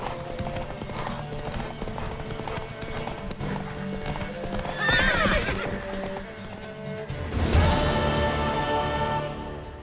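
Horse hooves clip-clop steadily in The Witcher 3 over a background music bed, with a horse whinnying midway and a louder whoosh of motion near the end.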